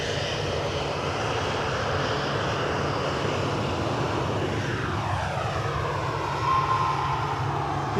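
A jet airliner takes off at Edinburgh Airport, a loud, steady roar of engines that stays strong throughout with a sweeping pitch shift as it passes and climbs, no talk over it.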